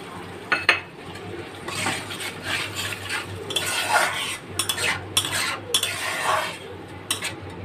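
A spice paste is stirred and fried in a pan, with repeated scraping and clinking of a spatula against metal over a low, intermittent sizzle in uneven bursts.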